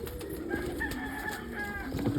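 Pet pigeons cooing softly in a loft while being fed pizza crust, low murmuring bird calls with faint chirps over a steady background hum.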